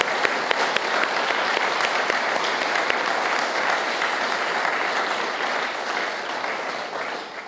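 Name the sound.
applause, a big clap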